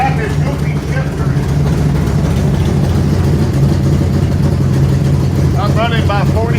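A 1979 Camaro Z28 V8 runs at idle on its first start-up, a loud, steady, rumbling engine drone throughout, with people talking briefly over it near the start and end.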